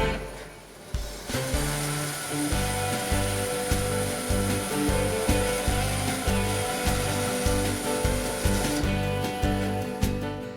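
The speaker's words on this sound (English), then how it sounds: "Working with the bandsaw table set at an angle, both of the round pieces can be cut out." Hammer N4400 bandsaw with its table tilted, cutting round wooden chair pieces, a steady loud machine drone under repeated rhythmic rubbing and grinding pulses as the blade works the wood.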